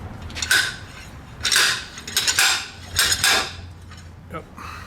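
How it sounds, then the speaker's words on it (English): A slide hammer pulls on a 1973 Oldsmobile 442 rear axle, giving several sharp metallic clanks in an uneven rhythm, close by. "We'll see if my slide hammer actually gets something out."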